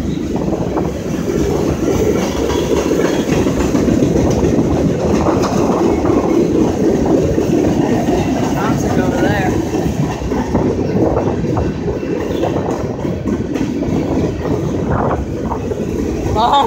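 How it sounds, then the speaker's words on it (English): A long CSX freight train with hopper cars rumbles past close by, wheels clattering in a steady rhythm with occasional metallic squeals, continuous and loud throughout. "It's good old long train. Very long."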